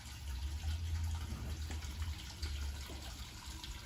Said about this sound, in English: I gotta shut off the water.